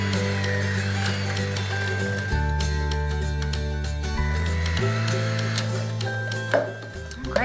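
An electric mixer beats chocolate frosting in a home kitchen, its steady motor whine holding a constant pitch and shifting in steps as the speed changes, with faint clatter near the end.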